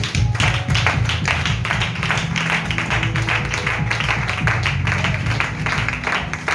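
A church congregation applauding together, dense and continuous clapping from many hands filling the room at a steady loud level, with some rhythmic tapping mixed in.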